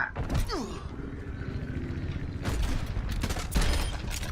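Overwatch gunfire in short separated bursts, a sharp volley early, then two louder clusters of shots later, with game effects and a faint voice between them.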